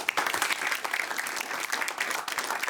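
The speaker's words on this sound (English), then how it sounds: "Round of applause, please." A large awards-show audience claps steadily and densely for award winners, a continuous loud roar of applause with no break.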